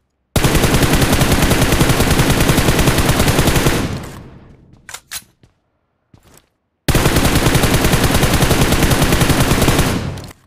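Loud, sustained automatic gunfire from the BGMI battle royale game, fired in two long rapid bursts separated by a short gap with a few isolated shots.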